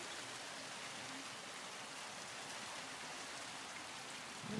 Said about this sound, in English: It's like little balls of hail everywhere.